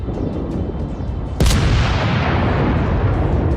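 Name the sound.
warship naval guns firing in a video game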